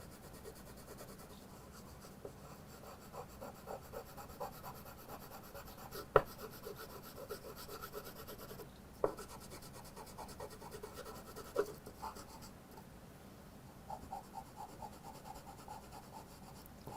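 A pencil shades a portrait drawing of an elderly woman on paper, soft steady scratching and rubbing strokes with a few sharper taps, quiet and close, with no talk.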